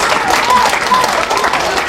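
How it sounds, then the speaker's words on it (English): The audience at a library magic show claps in a steady, lively burst throughout, fairly close and filling the whole moment, with a voice faintly audible underneath. "Go ahead and applaud."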